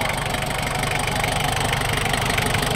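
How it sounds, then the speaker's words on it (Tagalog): An old Toyota L car engine, flooded and left sitting for years, runs after an overhaul, fed from an improvised bottle because the tank is dirty. It idles steadily and close with a rough, knocking mechanical rhythm throughout. "Ayan, umandar na yung Toyota L natin."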